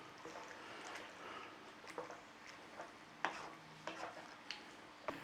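Chicken balti with vegetables being stirred in a pan, soft scraping and clinking strokes over a faint sizzle, close and fairly quiet with no talking.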